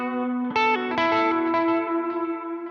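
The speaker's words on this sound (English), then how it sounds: "So once again, with the clean tone for reference." Electric guitar played with a clean tone through a pedalboard, a few ringing notes and chords sustaining alone with bright harmonics.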